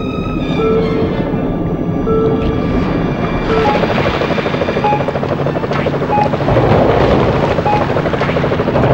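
Helicopter in the video game Jaws Unleashed, a steady loud rotor and engine drone running throughout, with tonal game sounds layered over it and no talk.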